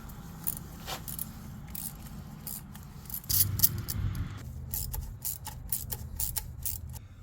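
Wrench snugging the upper bolt on a 5.7L HEMI engine in a 2005 RAM 1500 4x4, a run of close, quiet metallic clicks and rattles, with a brief louder clatter partway through.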